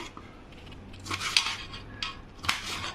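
A knife cuts tomatoes for tomato thokku, trimming out the white core. Three or four short, close cuts and taps stand over a quiet background, with no talking.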